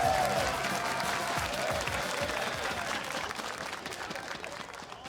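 A live esports arena crowd at a League of Legends LCS match between CLG and 100 Thieves roars with dense applause and cheering, loud and steady, slowly fading over a few seconds.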